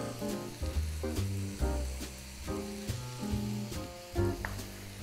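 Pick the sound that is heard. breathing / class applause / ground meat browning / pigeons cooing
ground meat browning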